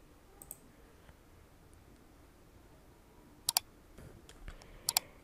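A handful of faint, sharp computer mouse clicks, a double click near the middle and another near the end, with scattered softer ticks in a quiet room.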